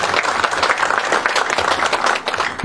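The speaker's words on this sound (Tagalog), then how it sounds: "Palakpak po ito." Dense, loud audience applause at a police provincial office command visit on Dinagat Island, a continuous wash of many hands clapping close by with no gaps.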